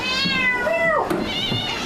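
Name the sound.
cat meowing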